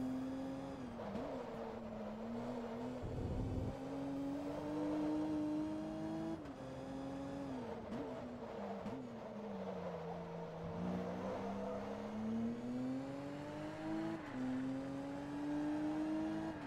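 Race car engine from Forza Motorsport 2 in a 500HP invitational event, revving and shifting steadily through a corkscrew section with rising and falling pitch throughout, loud and continuous with no talk.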